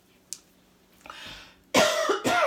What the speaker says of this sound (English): those jalapenos always make me cough